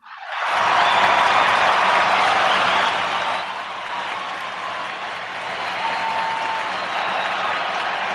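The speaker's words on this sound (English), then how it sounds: "You heard that applause, right?" Applause rises quickly and stays as dense, sustained clapping from a crowd. It eases slightly partway through and continues steadily to the end.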